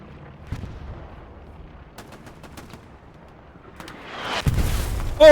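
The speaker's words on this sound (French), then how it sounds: "L'artillerie qui tape hein, sur les AP de Tingazy qui sont paquets, ça va faire très mal." Artillery in a strategy video game thumps in scattered, fairly faint bursts at first, then builds into a louder, rumbling barrage toward the end.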